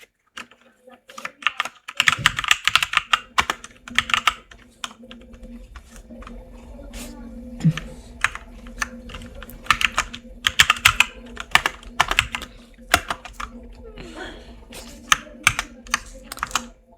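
Steady typing on a computer keyboard while entering course details into a PowerPoint text box, with close, crisp key clicks in irregular bursts and short pauses.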